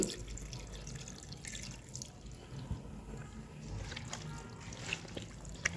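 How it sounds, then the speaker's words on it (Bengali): Water is poured onto beef trotters coated in spices, giving a faint, close trickle and splash that lasts through the clip. "অল্প একটু পানি দিয়ে দিচ্ছি"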